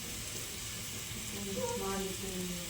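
Cumin powder stirred into food sizzling in a home kitchen pan, a steady close frying hiss with faint scraping under it, no voices.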